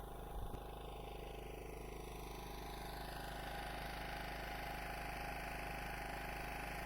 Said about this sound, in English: Just got the generator going